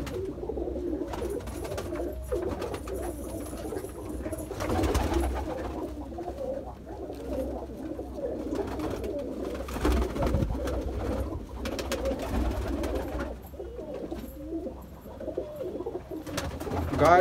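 Several Saharanpuri and Rampuri pigeons, among them Golden Kabootar birds, coo in low, soft, repeated calls close by. The cooing overlaps continuously, with faint flutters and background noise.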